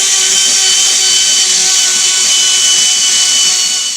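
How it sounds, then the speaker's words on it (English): A die grinder cleaning rust out of the eyes of a Scout 800 rear main leaf spring, one loud steady high-pitched whine held close for the whole stretch with no pauses and no voices. "cleaning out the eyes in the main leaf with the die grinder. Just removing any rust."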